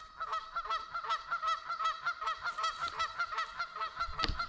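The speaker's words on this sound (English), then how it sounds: "And now here goes the geese again." A flock of geese near water honking repeatedly and loudly, overlapping calls in a steady noisy chorus, with a brief louder splash-like burst near the end.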